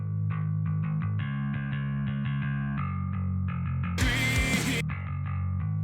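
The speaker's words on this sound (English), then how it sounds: "So this is the amped bass. It's going through some saturation, just a little bit." A bass guitar plays a steady run of notes through an amp, lightly saturated and warm, with a brief noisy burst near the end.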